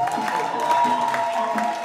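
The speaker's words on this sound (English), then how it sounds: "are you clapping for our minister?" A concert crowd in Ghana claps for a minister, making a steady patter of applause under a bright sustained musical tone, with a voice faintly present.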